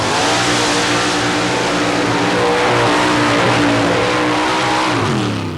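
A paddle-tire mud racer with a 355 cubic inch Chevrolet V8 roars loudly through a mud pit at a 1990 Bayou George, Florida event, engine revving hard and continuously with rising and falling pitch.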